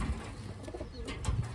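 Pigeons from a newly arrived batch of Taiwan birds give low, soft coos, with two brief bursts near the start and end over a steady murmur of cooing.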